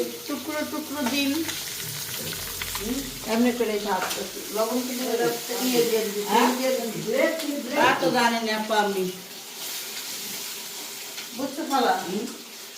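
Fish and spices sizzle and fry in hot oil in a home kitchen, a steady crackling hiss running under a woman's ongoing conversation.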